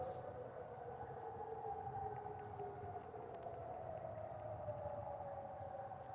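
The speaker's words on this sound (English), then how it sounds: "Every 3 months, they, they, they begin a test with the sirens." Weather warning sirens sounding in a scheduled test, a steady, distant wailing tone that slowly rises and falls alone over continuous low background rumble.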